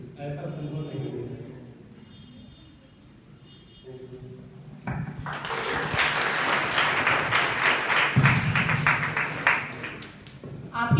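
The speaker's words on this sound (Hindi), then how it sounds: "आपकी कोशिश के लिए बहुत जोरदार तालियां आपके लिए" An audience claps loudly and steadily for a participant at a World Elderly Day debate competition at Shri Durga Ji Medical College, Chandeshwar, following a few seconds of speech and background sound.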